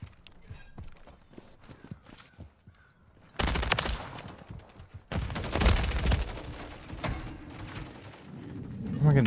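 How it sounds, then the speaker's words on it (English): Bursts of automatic gunfire from a Modern Warfare 3 multiplayer match with an AMR9 loadout, loud sustained volleys starting partway through, with a quieter stretch before and a player speaking over the game audio. "where am I getting shot from?"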